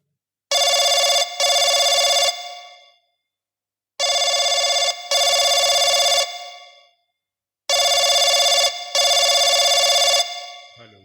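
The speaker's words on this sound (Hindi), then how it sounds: "ये घंटियां जाने लगी" A telephone rings in three loud, bright bursts, each a double ring with short pauses between, close and clean with no talk over it.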